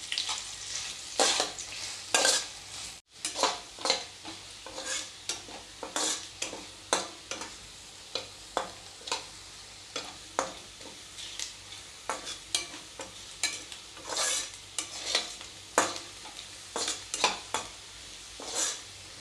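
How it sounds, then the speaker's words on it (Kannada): Sliced vegetables frying in oil for Dhaba-style chole, a soft sizzle broken by repeated scraping strokes of a spoon against the pan, close and irregular with a brief pause early on. "ಇದನ್ನು ಗೋಲ್ಡನ್ ಕಲರ್ ಬರೋವರೆಗೂ ಫ್ರೈ ಮಾಡ್ಕೊಳ್ಳೋಣ"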